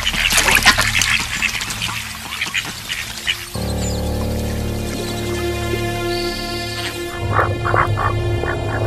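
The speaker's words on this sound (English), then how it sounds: "Feeling safe, the ducks focus on their own displays of dominance and bravado." Ducks quack on water in a crocodile-inhabited wetland, a busy burst of close calls at first, then a steadier hum of background noise with scattered quacks returning near the end.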